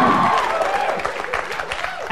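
A studio audience cheers and applauds loudly and steadily for a couple of seconds on a late-night comedy show, with voices mixed into the crowd noise.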